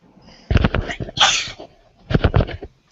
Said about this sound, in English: Enough with the sneezing already.